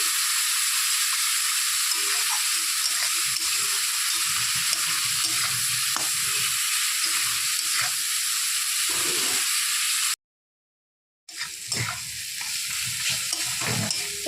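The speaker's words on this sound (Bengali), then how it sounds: "এটা ভালো করে কষিয়ে নেওয়া হয়ে গেছে মশলাটা ভালোভাবে করে ভাজা হয়ে গেছে" Spice masala with a little chilli powder fries in a pan for a chana dal, giving a steady close sizzle with stirring scrapes, then a brief drop to silence before the frying resumes.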